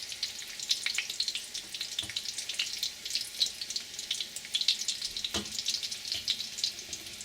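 Beef taquitos crisp in a pan with a steady, close crackling sizzle that runs without pause, dense bursts of popping rising and falling throughout, with no voices.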